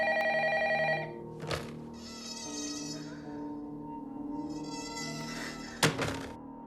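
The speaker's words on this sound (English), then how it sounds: "After the tape finishes, the phone immediately rings and there is no one speaking on the line, just weird metallic noises." A telephone rings in the horror film Ringu, with a buzzing electronic ring overlaid by eerie metallic droning and two loud, hollow thunks.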